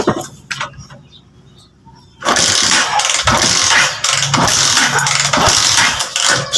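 A Honda TMX125 Alpha motorcycle engine that has stalled is cranked and fires into a loud, steady running roar after a couple of seconds of quieter mechanical clatter, heard up close.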